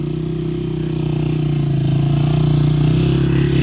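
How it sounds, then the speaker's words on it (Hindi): Motorcycles labour up a steep, dangerous mountain road in the Tanwal valley near Mansehra, their engines droning in a steady, loud, close hum that swells slightly as they climb, with no talk over it. "यहाँ से ये लोग बाइक चढ़ा रहे हैं"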